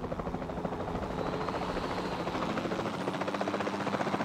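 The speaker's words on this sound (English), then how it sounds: "What do you want me to do with your chopper," Helicopter in the game Jurassic World Evolution 2, a steady rhythmic rotor thump and engine drone at moderate volume, continuous throughout without talk.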